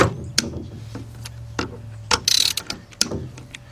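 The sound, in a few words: ratchet breaking loose engine bolts on Honda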